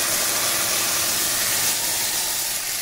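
Red lentils hitting a hot pan, giving a loud, steady, broad sizzle that stays even for a few seconds, close up with no voices.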